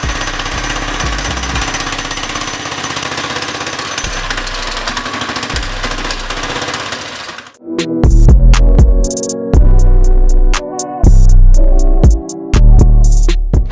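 A small mini go-kart engine runs with a fast rattling chug, then settles into loud, rhythmic bursts of revving separated by short drops as it bogs, close up.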